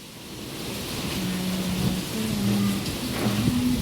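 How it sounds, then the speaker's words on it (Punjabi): A strong windstorm with rain roars as a continuous broad rushing wash that swells slightly, with a low steady hum running underneath. "ਦੇਖੋ ਹਨੇਰੀ ਬਹੁਤ ਜ਼ਿਆਦਾ ਚੱਲ ਰਹੀ ਆ"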